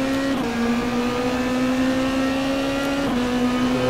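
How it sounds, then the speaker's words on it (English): A stock car in the racing game StockCar 2013 runs over rumble strips, with a steady engine drone and a brief rough rumble accent near the start and again around three seconds, all without voices. "I don't know if you can hear the rumble. That's the rumble strips."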